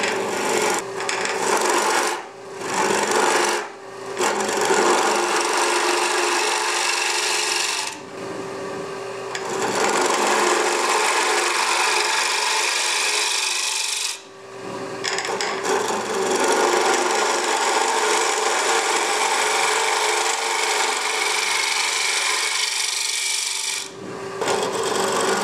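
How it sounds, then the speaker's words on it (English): Carbide-tipped gouge cutting wood on a lathe, chattering against the vibrating tool rest: a loud, continuous rasping scrape sustained in long bursts with brief pauses between passes, close up with no talk. "you can start hearing chattering on the rest because it's vibrating"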